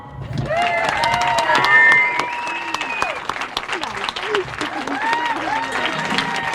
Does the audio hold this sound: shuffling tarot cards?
no